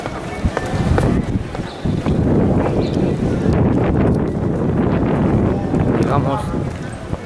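Strong wind buffets the microphone on a street in Lima's historic centre, a constant loud broadband roar with gusty swells for the whole stretch and no clear pause.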